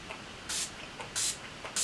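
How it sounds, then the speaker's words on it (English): Urban Decay setting spray misted onto a face in three short, close hissing bursts, spaced evenly, with quiet pauses between them. "set this look with a little bit of Urban Decay setting spray"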